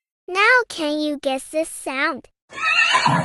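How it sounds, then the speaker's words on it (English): A horse whinnies in a long, wavering neigh after a short spoken question, loud and clear, ending in a breathy snort. "It's a horse."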